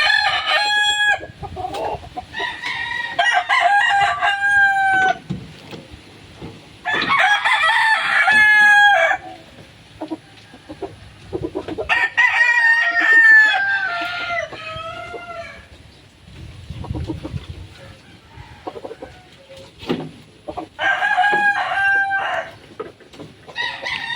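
Gamecock roosters crow loudly and close, several long cock-a-doodle-doo calls spaced out over time, with clucking and farmyard noise in between.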